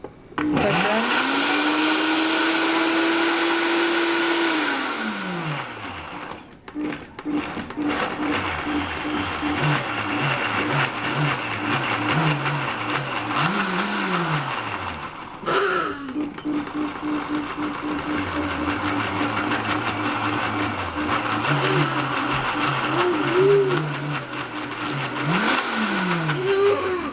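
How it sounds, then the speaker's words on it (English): An electric kitchen blender runs loudly and continuously for nearly half a minute, its motor whining up to speed and dropping in pitch as it churns fruit, with a short pause midway. "And this is such a nice blender. I just love it so much. And then I just turn it on right here."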